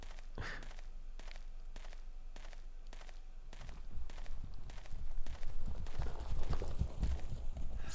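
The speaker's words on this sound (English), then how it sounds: "Sounds like an invisible horse." Hollow hoof-like clopping in the Silent Hill video game, a steady run of evenly spaced knocks that echo in a quiet room, then giving way to a louder, rumbling, scuffling stretch.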